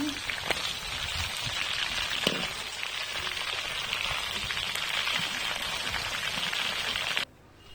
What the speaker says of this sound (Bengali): তেলে ভেজে নিব এরকম ব্রাউন করে সবগুলো মাংস আমি ভেজে নিচ্ছি